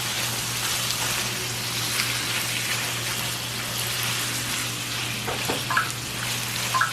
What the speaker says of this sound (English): now that this is sizzling, I'm just going to come and move it around because we want that pinkness to go away